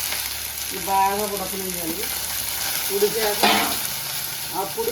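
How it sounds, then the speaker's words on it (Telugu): Onions sizzling as they fry in a pan for a colocasia (arbi) curry, a steady close crackle with occasional stirring scrapes, while someone speaks briefly over the cooking. "ఉల్లిపాయ కూడా వేసుకుంటున్నాను"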